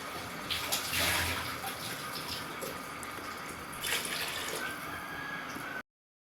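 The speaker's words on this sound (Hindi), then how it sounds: "देखें जी, पानी डाल दिया मैंने।" Water poured from a glass into a cooking pot of rice, a steady continuous splashing pour lasting several seconds, close and fairly loud, ending abruptly.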